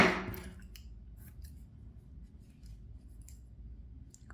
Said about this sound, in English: just need to cut the yarn and fasten off